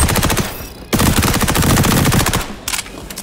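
An MP5 submachine gun fires on the shooting range in the video game XDefiant: loud, close, rapid automatic bursts, with a long burst, a brief gap, then another sustained volley and a short final burst.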